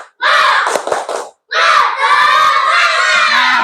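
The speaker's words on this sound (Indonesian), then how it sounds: "Sekali lagi tepuk semangat." A class of elementary schoolchildren at SD N Malahpar in Rumpin, Bogor, loudly shout the tepuk semangat clapping chant in unison: two energetic group bursts separated by a brief pause.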